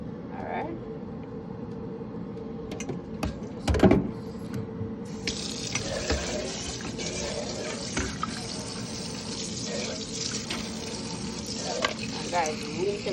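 Water runs steadily from a kitchen tap, room temperature or cold, for seasoning shrimp in a Jamaican curry cooking setting; a continuous close rush with a few clinks and handling knocks over it.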